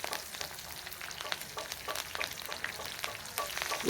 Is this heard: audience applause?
no